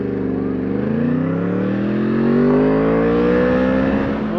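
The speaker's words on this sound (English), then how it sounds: "Oh, more traffic." Road traffic passing close by on a roadside, a loud vehicle engine rising in pitch and swelling as it approaches and goes past, with no talk.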